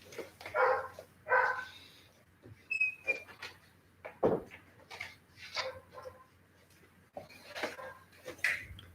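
A dog barks indoors in several separate bursts, fairly close, with quieter rustling and household noises between barks.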